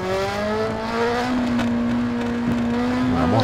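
A 2004 Yamaha R1 motorcycle in RIDE 4 holds a steady, buzzing high-rpm engine whine, with a brief dip and recovery partway through, loud and close with no talk.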